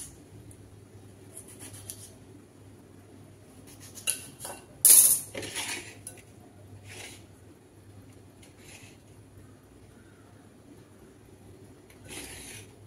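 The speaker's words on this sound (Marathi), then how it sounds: "टोमॅटो एक घेऊया, तो जरा कापून घेऊया।" A knife cuts a tomato on a board in a quiet kitchen, with faint scraping, a few soft taps and one sharper clack near the middle, low and close with no talk.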